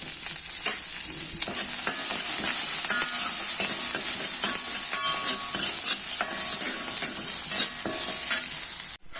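Garlic frying in a pan for mixed vegetable soup gives a loud, steady sizzle close by, with stirring scrapes throughout, before it cuts off abruptly at the end.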